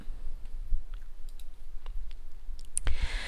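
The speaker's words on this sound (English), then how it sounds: "So if we start clicking to zoom in much closer here" Mouse clicks while zooming in Google Earth Pro, a series of light, sparse clicks close to the microphone over low room noise, with a sharper click near the end.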